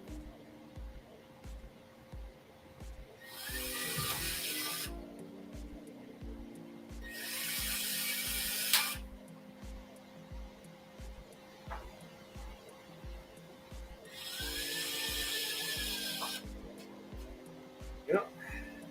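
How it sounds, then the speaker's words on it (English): A power drill bores holes into wood in three separate bursts of loud whirring, each lasting a couple of seconds, against a steady low hum and a regular faint ticking in the background. "Let me drill a couple at a time so I'm not stopping to get everything set up each time."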